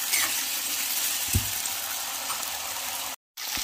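Finely chopped garlic and potatoes fry together in a pan, a steady hiss broken by a few soft knocks as the mixture is stirred.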